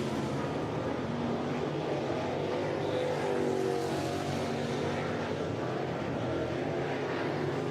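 Dirt late model race cars roar around All-Tech Raceway in a continuous, dense engine drone that rises and falls slightly as the pack passes, heard from a distance with no clear talk.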